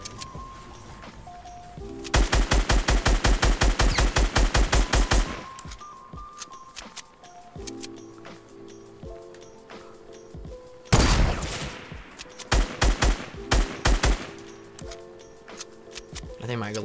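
Rapid gunfire bursts in the video game Fortnite during a solo-versus-squads match at Tilted Towers, two long loud volleys of close shots followed by shorter bursts, with game effects between them.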